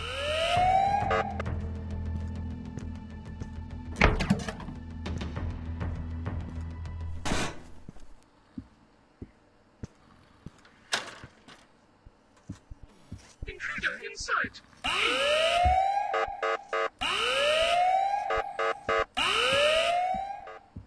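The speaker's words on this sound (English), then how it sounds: "Sound the alarm." Alarm siren in the horror video game Ice Scream, loud rising and wailing electronic sweeps that repeat in a steady cycle, mixed with other game sounds and a short stretch of quieter noises between sirens.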